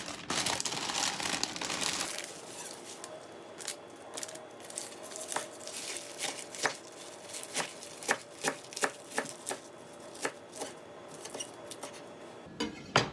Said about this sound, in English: Chop up some spinach.